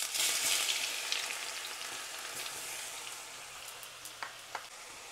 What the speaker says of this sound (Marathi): आता आपण याच्यात ॲड करूया जिरं, त्याच्यानंतर भरपूर आलं लसूण,